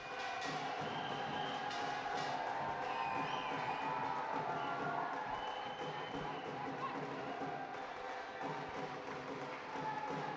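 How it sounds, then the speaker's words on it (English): A large crowd of enthusiastic Korean supporters cheers and shouts continuously at a 2014 Uber Cup badminton semifinal, a steady roar with scattered claps and thumps throughout. "a band of very enthusiastic Korean supporters there. They've been creating a lot of noise"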